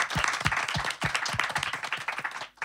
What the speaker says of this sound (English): And I would like to clap again because I'm so proud of you.